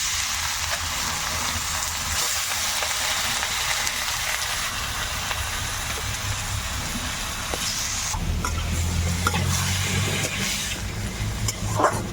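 Chicken meat frying in a pan with chopped garlic and ginger, a continuous broadband sizzle that shifts and grows coarser partway through as the meat goes in, with no talking.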